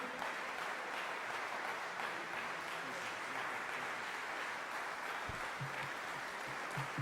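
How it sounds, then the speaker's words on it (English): A crowd at a speaking event applauds Student Minister Abel Muhammad with faint, distant, steady clapping throughout, and a voice briefly surfaces near the end. "please welcome with a round of applause, Student Minister Abel Muhammad"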